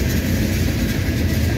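A northbound Norfolk Southern mixed manifest freight train passes on track one, a loud, close, continuous rumble of rolling railcars with heavy low-end roar throughout.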